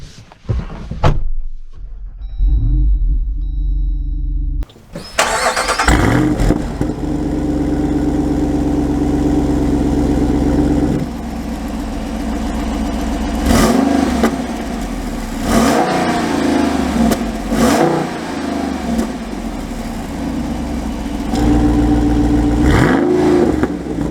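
A 2022 Jeep Wrangler Rubicon 392 Xtreme Recon V8 starts up after a door thunk, then settles into a deep rumbling idle and revs as it pulls away, loud and close.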